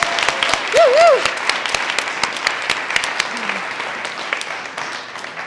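An audience at a youth speech event applauds loudly, with dense continuous clapping and a brief whoop near the start, then slowly fading.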